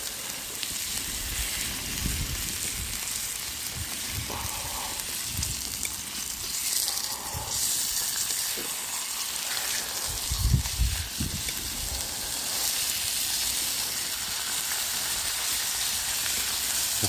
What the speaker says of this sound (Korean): 고기 익는 소리가 이제 점점 불이 올라와서